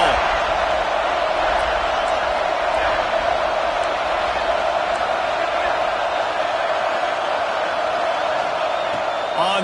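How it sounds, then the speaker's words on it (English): A stadium crowd at a football game roars steadily behind the defense during a red-zone stand, a dense sustained wall of cheering with a commentator talking over it. "The crowd getting behind this defense as they try to get a stop in the red zone."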